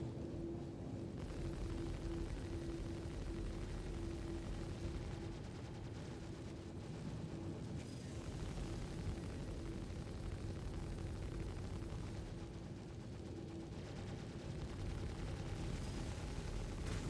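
An enemy ship's gunner firing during a Star Citizen space fight, a continuous rumbling stream of heavy blasts and cannon fire, steady and loud throughout, with a droning engine hum underneath and no voices.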